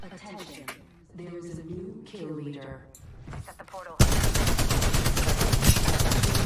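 Gunfire from the video game Apex Legends breaks out as a dense, sustained volley of rapid shots, filling the back half after a stretch of someone talking in Portuguese.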